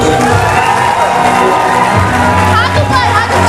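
A seminar audience in Bareilly answers with loud, dense noise: clapping mixed with cheering and shouting voices, close and continuous throughout.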